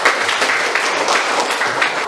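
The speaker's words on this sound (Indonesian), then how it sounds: "tepuk tangan dulu kita semua" A classroom of students applauding together at the end of a lesson, dense and steady clapping that carries at even loudness from start to finish.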